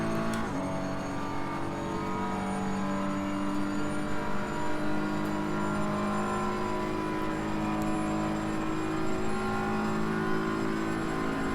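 A BMW M4 GT3 race car at full throttle in Assetto Corsa Competizione, its engine a loud, sustained high-revving drone that climbs steadily in pitch. A brief shift comes near the start, with no talk over it.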